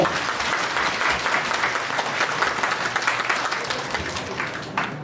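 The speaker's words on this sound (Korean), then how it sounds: "큰 박수 부탁드리겠습니다." Loud, sustained clapping from a standing audience at a community meeting on power transmission line support projects, continuous and crowd-wide.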